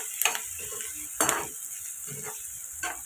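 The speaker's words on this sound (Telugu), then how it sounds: "ఉల్లిపాయలు ఫ్రై అయ్యండి." Onions fry in a pan for a fish curry (pulusu), a low sizzle punctuated by three or four distinct stirring scrapes of a spoon against the pan.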